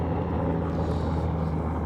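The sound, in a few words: helicopter flying by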